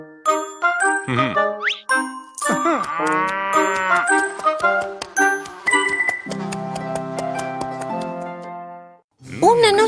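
A cow moos loudly and repeatedly in drawn-out, close calls, mixed with chiming bell-like dings and tinkling tones, with no one talking.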